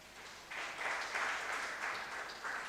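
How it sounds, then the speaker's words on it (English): A lecture audience breaks into brief clapping after a short quiet moment, a faint, scattered patter lasting a couple of seconds. "does anybody want to clap that I'm standing up?"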